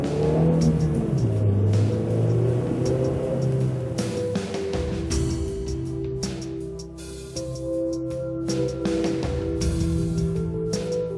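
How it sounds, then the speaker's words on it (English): A Toyota Etios sedan's growly 1.5-liter engine revs while driving, its pitch climbing and falling through gear changes, steady and close throughout, with no talk. "It's a fairly growly engine. Now, let's see how it does out there."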